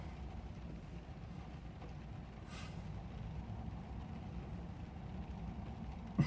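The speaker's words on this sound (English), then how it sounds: "there are still trucks moving down the 5 freeway" Distant trucks rolling down the 5 freeway at night, a low continuous traffic rumble heard faintly from indoors through a window, with one brief hiss midway.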